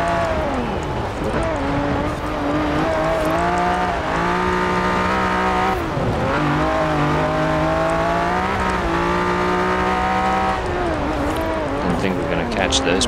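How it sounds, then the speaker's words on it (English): In Forza Horizon 4, a stock 1968 Ferrari 365 GTB/4 engine revs high and shifts repeatedly during a race, a loud continuous wail rising and dropping between gears, with a player talking over it. "Engine revs so high."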